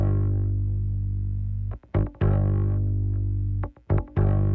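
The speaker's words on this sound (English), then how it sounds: "let's listen to the bass here on its own" Distorted bass guitar playing alone in an isolated mastering stem, with sustained low notes ringing for nearly two seconds and two short breaks of near-silence between phrases.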